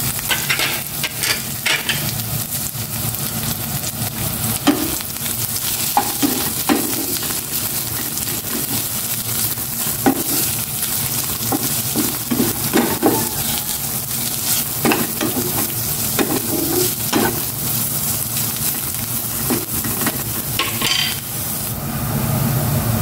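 Bitter gourd (ampalaya) stir-fried in a hot pan gives a steady, close sizzle and frying crackle with occasional stirring clatter throughout.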